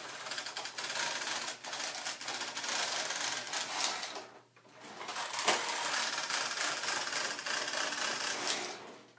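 A double-bed knitting machine's carriage is pushed slowly along its beds, giving a steady, close rattling and clattering that pauses briefly midway before the next pass resumes.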